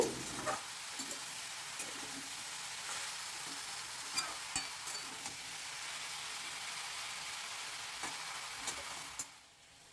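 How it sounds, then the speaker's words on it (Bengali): Ridge gourd and dried fish sizzle steadily in a frying pan, with soft scrapes and ticks from a spoon stirring the mixture, close and fairly quiet. "ঝিঙেগুলো দিয়ে ভালো করে এটাকে নাড়াচাড়া করে দেব"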